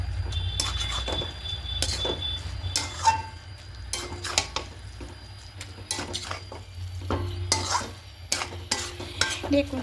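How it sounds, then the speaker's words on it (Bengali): Chicken mince and cabbage, dusted with garam masala, are stirred in a kadai with a metal spatula: close, repeated scraping strokes and clinks over a soft sizzle, with no talking. "খুব ভালো করে মিশিয়ে নেব দেখুন"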